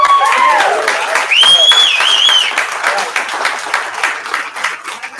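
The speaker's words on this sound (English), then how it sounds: "give her a round of applause" A round of applause at a team celebration, dense clapping throughout with whistle-like tones and voices mixed in, fairly loud and steady.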